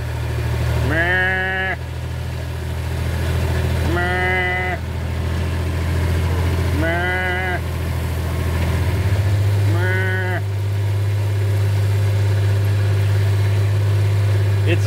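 A calf bawls four times at spaced intervals, loud and close, in a farm field, over a steady low engine drone.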